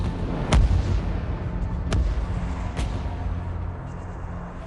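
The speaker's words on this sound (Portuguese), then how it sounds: "Ele atira tão longe que talvez você não veja o navio em que está atirando" Heavy battleship cannon fire booms amid a dense rumbling din, three sharp blasts spaced over a few seconds, loud and reverberant like wartime archive footage.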